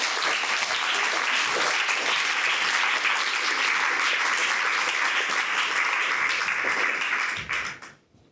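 Sustained applause from a theater audience at a Shakespeare lecture welcomes performers to a scene from Timon of Athens, steady dense clapping that fades out near the end.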